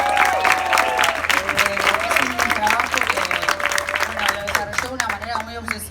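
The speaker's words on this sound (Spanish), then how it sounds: "por pronto un aplauso a Anne" Lively applause from an audience at a book presentation, dense and sustained clapping mixed with voices and a few cheers throughout.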